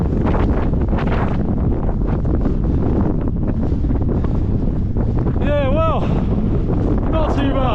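Strong wind on a Snowdon mountain pass buffets the microphone in a loud, continuous rumbling roar, with brief whistling tones near the end and voices speaking underneath.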